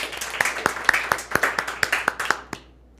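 A few people clap in sparse, separate claps at a cloud-native tech conference side room, roughly a dozen sharp hand claps over a few seconds that trail off near the end.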